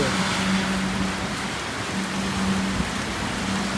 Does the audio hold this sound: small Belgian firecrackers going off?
no